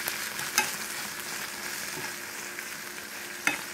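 Hash browns fry in a Gotham Steel pan with a steady, close sizzle, broken by two sharp pops or clinks, one early and one near the end; no one talks.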